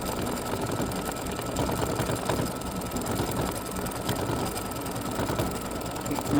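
An embroidery machine stitches a free-standing lace spider for Halloween earrings, giving a steady, close, continuous mechanical whir and rapid needle clatter that runs for the whole stretch with no talking.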